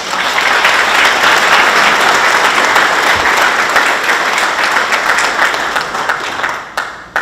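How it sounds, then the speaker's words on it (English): Sustained, loud applause from a crowd at a sports hall of fame induction ceremony, dense steady clapping for about seven seconds before tapering off at the end. "let's give Fred a nice round of applause"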